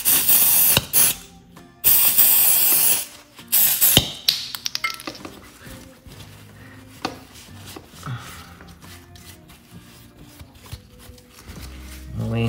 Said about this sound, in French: je vais quand même le nettoyer avec mon petit lubrifiant à contact à base